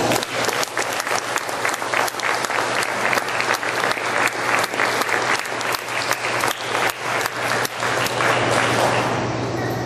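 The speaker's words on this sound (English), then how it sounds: "Let's have another round of applause." An audience at a Cinderella-themed children's pageant applauds loudly and steadily, dense clapping filling the room throughout, with no voices over it.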